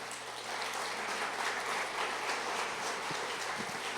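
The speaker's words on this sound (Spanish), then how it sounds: "Dele un aplauso al Señor." Congregation applauding the Lord during a Spanish-language church service, a dense steady roar of clapping sustained throughout, loud and close with no pauses.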